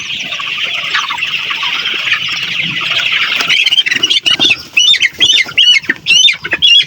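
Chickens of the Sonali super hybrid breed, 43 days old, cluck and squawk in a poultry shed, a steady flock chatter giving way to loud, repeated agitated squawks close by as one bird is grabbed.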